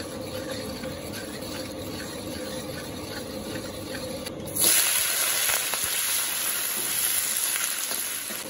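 Sugar dropped into hot oil in a wok hisses into a loud, steady sizzle that jumps up abruptly midway and keeps frying without pause.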